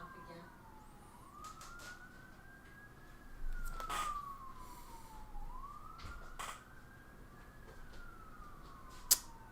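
Distant bedtime siren whooping up and down in long, slow cycles, soft and continuous, with a few small knocks and a sharp click near the end.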